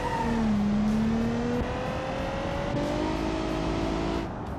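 A red car with a fairly brutal V6 under the hood and a muffled exhaust in BeamNG.drive, the engine droning loudly as it revs and shifts through rising pitches, with faint tire noise and no talk.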